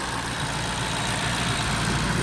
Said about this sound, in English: Gotta love the Ford tick on every car.